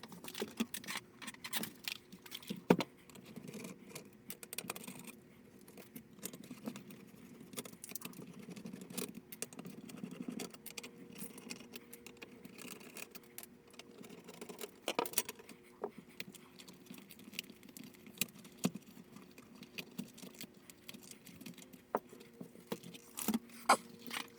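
Keys on a Toshiba HX-10 MSX computer keyboard being pressed under repair, an irregular patter of close, quiet clicks and taps with occasional sharper clacks and no voices.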